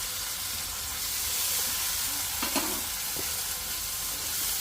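Tomatoes go into a pan of golden-brown frying onions, giving a loud, continuous sizzle and hiss with light stirring scrapes, close up and without talk.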